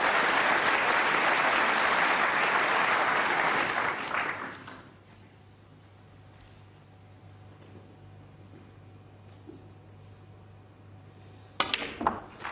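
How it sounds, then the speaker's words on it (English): A packed snooker audience at a final applauds loudly after Barry Hawkins makes a century break, steady broadband clapping that fades out after about four seconds, leaving quiet room tone before a brief burst of clatter near the end. "His 5th century of this tournament, warmly appreciated by the packed audience."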